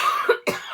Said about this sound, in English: I'm still trying to get rid of this silly cough.